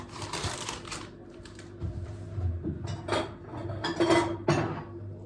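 Plates for serving chips are taken out and set down, giving a few close clattering knocks and clinks of crockery spread over several seconds.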